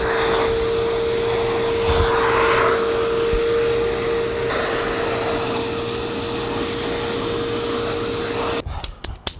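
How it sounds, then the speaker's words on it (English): A vacuum cleaner runs loud and close with a steady high whine, being tested after Coke was spilled, then cuts off abruptly near the end into clunks. "I spilled a lot of Coke on there and I was just trying to vacuum it."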